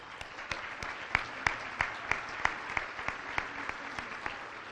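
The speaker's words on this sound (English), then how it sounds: "That definitely deserves a round of applause" Guests at a charity gala for a pediatric brain cancer foundation applaud a donation announcement, a fairly soft, sparse round of clapping with individual sharp claps standing out at an uneven beat.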